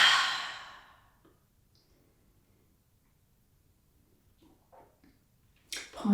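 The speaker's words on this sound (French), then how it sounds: "inspire avec le nez et expire avec la bouche" A long audible exhale through the mouth during an office yoga breathing exercise, a soft airy sigh at the start, then near silence with faint breaths returning at the end.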